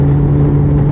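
Motorcycle on a golden-hour ride home, its engine droning loud and close with a steady hum and a slight surge in revs, in a brief continuous stretch.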